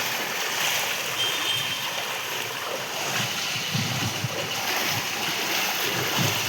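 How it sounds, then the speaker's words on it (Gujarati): Heavy monsoon rain falls on a flooded street in Surat, with water rushing and splashing in a steady, mid-level wash and occasional heavier surges. "વરસાદ બી વધી રહ્યો છે જોરદાર।"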